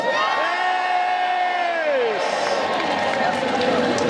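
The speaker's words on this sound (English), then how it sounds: "That was a good cheer" Audience at a Tudor-themed gathering cheering loudly, a dense wall of voices with high whoops that holds steady, then shifts into a broader, noisier roar of clapping and shouting.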